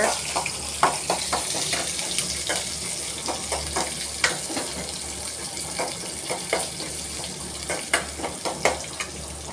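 Onions frying and being sautéed in a pan for a bitter gourd stir-fry, with a steady hiss of sizzling oil punctuated by repeated clicks and scrapes of stirring, close and fairly loud.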